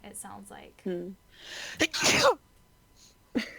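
A single sharp sneeze cuts through a casual conversation among players at a Dungeons and Dragons session. Voices talk just before and after it.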